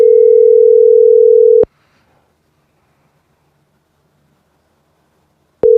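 A telephone ringback tone sounds on an unanswered call: one steady, loud tone, then about four seconds of silence before the next ring begins.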